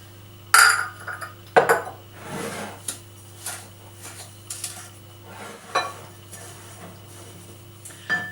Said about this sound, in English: So we're going to mix these together until they're light and fluffy.